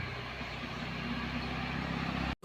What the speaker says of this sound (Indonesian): truk Isuzu sudah melaju